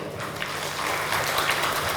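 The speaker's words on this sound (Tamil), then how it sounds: "உங்களுக்கு இன்னொரு முறை கைத்தட்டல்" An audience claps together at a Guru worship gathering, a dense, steady wash of applause that holds evenly for a couple of seconds with no voices over it.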